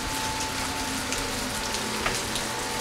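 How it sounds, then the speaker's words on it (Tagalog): Steady rain falling outdoors, a dense, constant patter of drops on surfaces with a few sharper splashes, no voices. "Ay, mababasa kayo ng ulan."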